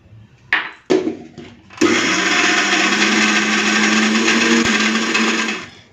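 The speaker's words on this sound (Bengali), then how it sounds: "এই যে ডালটা বেটে নিয়েছি" An electric blender grinds soaked lentils with a little water into a paste for fish pakoras. A few knocks come first, then a loud, steady whirring grind runs for about four seconds and winds down.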